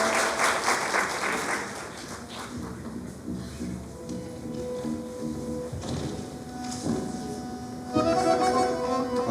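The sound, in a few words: audience applause welcoming a poet on stage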